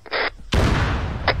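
A sudden close boom in the military game Arma 3 bursts in after a short buzzing radio transmission and tails off into rumble, followed by a brief radio click.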